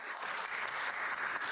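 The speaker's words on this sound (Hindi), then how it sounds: "सभी की तालियों की आवाज सुनी है ना?" Steady, dense applause from an audience fills the whole stretch at an even level, with no single claps standing out.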